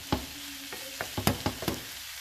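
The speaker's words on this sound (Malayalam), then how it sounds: "നന്നായിട്ടൊന്ന് ഇളക്കി ഞാൻ നന്നായിട്ടൊന്ന് മിക്സ് ചെയ്ത് ഇളക്കിക്കൊണ്ടിരിക്കുകയാണ്" Clam meat is being stirred while it fries, with a low sizzle under about half a dozen sharp scrapes and knocks of a spoon against the pan, close and with no talk.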